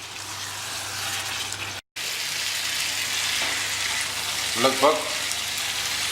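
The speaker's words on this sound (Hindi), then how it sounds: "अब मैं इसको 3-4 मिनट अच्छा बढ़िया भून लेता हूँ।" Chicken sizzles steadily in cashew paste in a pan, a loud continuous frying hiss with brief stirring scrapes, while a voice speaks over it.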